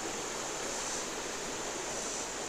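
Spring water pours out into a creek bed covered with watercress in the Missouri Ozarks, making a continuous soft rushing hiss with no voices.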